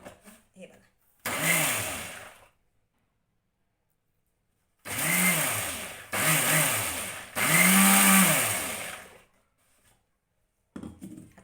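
A mixer grinder blends sorghum flour dosa batter in loud whirring bursts, three close together after an earlier one, with short pauses between them.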